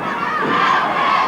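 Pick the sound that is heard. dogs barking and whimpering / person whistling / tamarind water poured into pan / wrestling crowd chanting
wrestling crowd chanting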